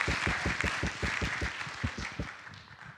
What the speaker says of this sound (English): Do you have another round of applause because I messed that up